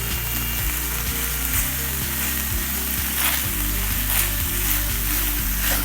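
Shredded cabbage and garlic sizzle steadily in a hot pan while being stirred, a loud continuous frying hiss with rhythmic scraping and clatter of the utensil throughout.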